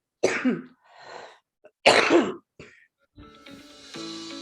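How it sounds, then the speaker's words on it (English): A person coughs in two harsh bursts with a pause between, followed by some faint shuffling and a low hum. "As I cough my way out of this thing."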